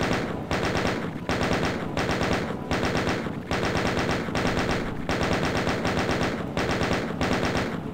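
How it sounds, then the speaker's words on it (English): Rapid, loud, continuous video game gunfire from a weapon fired at an enemy on a Doom map, in sustained bursts with brief pauses between them. "it's basically just keep shooting him till he's dead"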